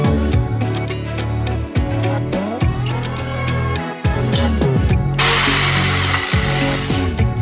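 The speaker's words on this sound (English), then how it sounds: "Drill them in." A power drill drives screws through wooden slats into a Sprinter van bed frame, loud repeated bursts of motor whine that stop and restart in short bursts, each ending with a sharp clunk, with no talking.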